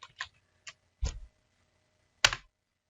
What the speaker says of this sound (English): if you go ahead and type in the index MIME